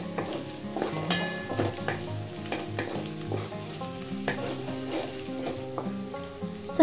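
Garlic and finely chopped green chilies spluttering in hot oil for a tadka over low flame, a loud crackling sizzle with rhythmic spoon scrapes and stirring knocks against the pan, no voices.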